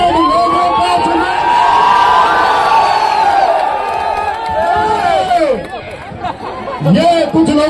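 A large crowd at an Uttar Pradesh police honour ceremony cheers and whoops loudly, a dense and close roar of voices that surges and dips with shouts standing out throughout.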